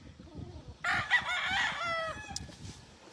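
A bull stag rooster crows once on a farm in Magdalena, Laguna, Philippines, a loud, close, drawn-out call of about a second over a low background rumble.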